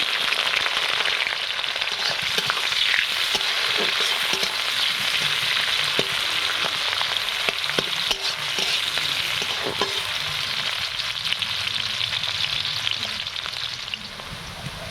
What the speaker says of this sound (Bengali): এটা হালকা একটু ভাজা করে পেঁয়াজটা দিয়ে দিচ্ছি মানে পেঁয়াজটা এখানে দিয়ে দিচ্ছি